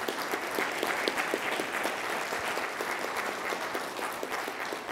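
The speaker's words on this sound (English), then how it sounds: "So maybe we can thank them with a round of applause." Round of applause from an audience at an academic conference panel, steady dense clapping held at an even level for the full stretch, somewhat distant and without voices.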